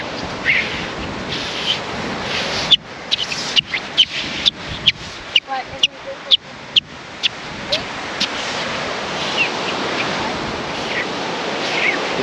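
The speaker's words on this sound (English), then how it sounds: "the other thing that's really cool about this sand is it squeaks" Beach sand squeaking underfoot on a stunning ocean beach, a rapid run of about a dozen sharp, crisp squeaks in the middle, over steady surf and wind.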